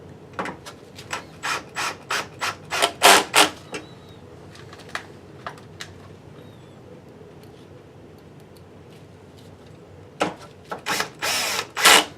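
A cordless drill driver with its clutch set backs out the screws holding the optical cover of a Digital Projection eVision XVGA 7000 projector, in several short whirring bursts at the start, a quiet stretch, then more bursts near the end.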